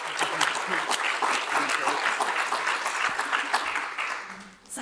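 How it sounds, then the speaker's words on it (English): Audience applauding at a UK business launch event, a steady wash of many hands clapping at moderate volume, fading briefly near the end. "So I think a massive round of applause to Layla as well."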